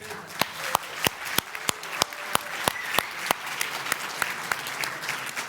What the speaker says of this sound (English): even bigger applause for their courage to come here.